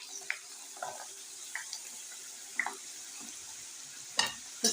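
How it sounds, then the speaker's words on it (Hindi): Potatoes frying in hot ghee, giving a quiet, steady sizzle with occasional sharp spatters and stirring clinks scattered throughout. "जी तो वही घी में हम अब डालेंगे आलू"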